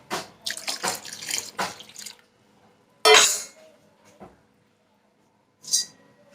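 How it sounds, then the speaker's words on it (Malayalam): Water is poured into a pot to wash rice in a home kitchen, several splashing bursts close by, then a louder gush, a faint clink of a vessel and a final short splash, separated by quiet gaps. "പിന്നെ കുറച്ചും കൂടി വെള്ളം ഒഴിച്ചു"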